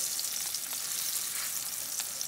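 Steady, close sizzling and crackling of flour-coated grey snapper frying in a pan, continuous and fairly loud with no voices.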